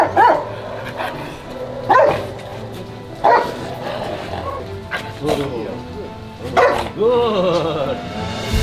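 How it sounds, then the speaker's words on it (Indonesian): Police K9 search-and-rescue dog trained to find living people, barking in repeated bursts roughly every second or two, loud and close, with some talk mixed in. "K9 Nyusar atau pencarian orang hidup, dia memberikan reaksi gonggongan."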